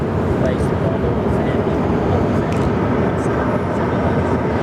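A Qantas airliner, Qantas flight 291, departs Sydney Airport for Singapore, a loud continuous jet engine roar that holds steady throughout.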